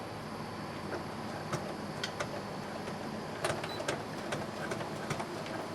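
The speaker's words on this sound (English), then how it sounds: "I'm going to take this to the sewing machine and I'm going to straight stitch right down along that raw edge" A sewing machine runs a straight stitch along the raw edge of a pioneer dress apron, giving a steady close mechanical whir with light ticking, unbroken for several seconds.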